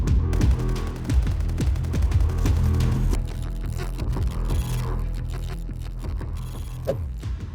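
Sustained full-auto fire from an AK-5C rifle fitted with a muzzle brake in Battlefield 4, a rapid even train of loud sharp shots close up, a brief thinning, then more bursts.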